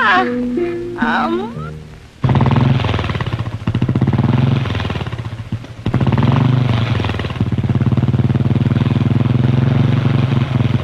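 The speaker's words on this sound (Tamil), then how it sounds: "அவன் மோட்டர் பைக்ல எல்லாம் போயிருக்கா." A loud motorcycle engine roars and revs close by, staying strong almost the whole time, after a brief voice at the start.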